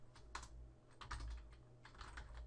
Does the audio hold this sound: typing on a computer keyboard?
yes